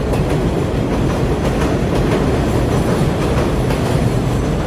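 A New York City subway 5 train arrives with a loud, continuous roar of wheels and rail noise, steady rumbling clatter filling the platform and no speech over it.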